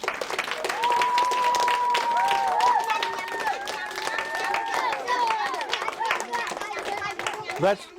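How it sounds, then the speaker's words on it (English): Children in a classroom clapping and cheering, a busy patter of hand claps mixed with excited high voices and squeals, loud and close for several seconds. "Let's give a big round of applause for the witch doctor."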